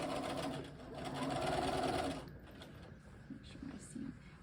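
Sewing machine running steadily as it stitches a seam on a soldier jacket sleeve, loud for about two seconds before stopping, followed by quieter handling sounds of fabric.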